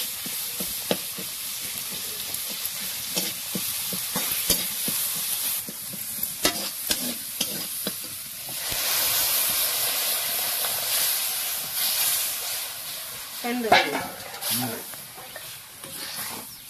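Moong dal sizzles and hisses in hot ghee while a spoon stirs it, steady frying with scattered scraping clicks and a brief clatter near the end, no talk.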